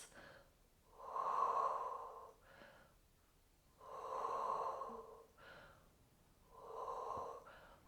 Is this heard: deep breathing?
yes